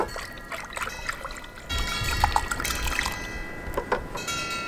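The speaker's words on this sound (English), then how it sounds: "I'm going to mix this by spinning the water in the bucket" Water swirled by hand in a bucket to mix in fermented plant juice, a soft steady trickling slosh that grows a little fuller midway, close and alone.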